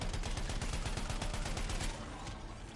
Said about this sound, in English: An entire clip from an assault rifle